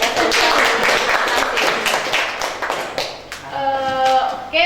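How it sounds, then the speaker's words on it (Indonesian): Crowd applause at a vocational high school in Indonesia, with dense, steady clapping for several seconds, fairly loud, fading slightly near the end as a voice starts. "Oh, tepuk tangan dulu untuk SMK."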